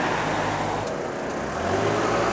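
A car driving past on a road at night near Gwangneung Forest, a loud, steady rushing tire and engine roar that swells slightly toward the end, with no voices.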